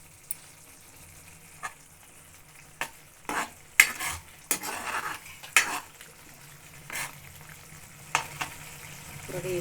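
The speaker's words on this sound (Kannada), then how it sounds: "ಚೆನ್ನಾಗಿ ಕುದೀತಾ ಇದೆ." Puliyogare mixture bubbles in a pan, a soft simmer beneath frequent stirring scrapes and clattering utensil strokes that come in irregular bursts.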